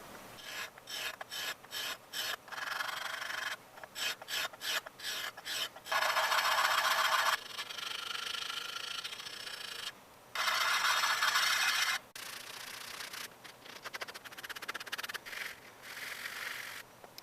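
The iron of a Stanley 151 spokeshave is sanded by hand in rhythmic, gritty back-and-forth strokes, some in quick bursts and some long and sustained, with brief pauses between them.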